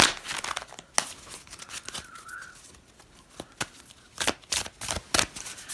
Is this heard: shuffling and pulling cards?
yes